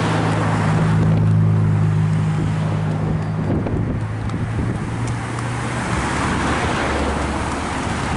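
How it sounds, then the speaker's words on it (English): Continuous road traffic on a street in Santa Elena, Antiguo Cuscatlán, El Salvador, on New Year's Eve, heard while walking: a loud, steady roar of passing vehicles with wind buffeting the microphone and low engine drone throughout. "I'm walking in the traffic."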